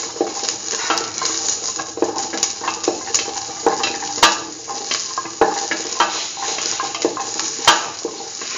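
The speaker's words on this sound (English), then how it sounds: "Saute the shallots till they lose that pinkish color." Shallots sautéing in a pan for a curried green tomato coconut dip, a steady close sizzle with scattered sharp clicks and scrapes of a utensil stirring against the pan.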